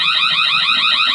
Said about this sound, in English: Alright, so it says leak detected. There's an alarm going.